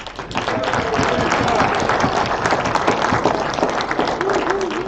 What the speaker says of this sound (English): A big round of applause for Chuck.